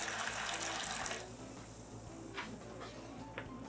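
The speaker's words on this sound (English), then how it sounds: "I'm going to put some of my brine concentrate in here" Brine concentrate for corned beef and pastrami pours into a container with a soft splashing gush that is strongest at first, then eases into quieter trickles and a few small drips.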